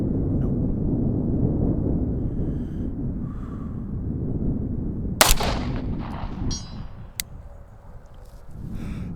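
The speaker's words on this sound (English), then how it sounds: "Second shot, man." At an outdoor shooting range around 190 yards out, a single sharp rifle shot cracks loud and close over steady wind rumble, followed by a fading echo and a few faint clicks.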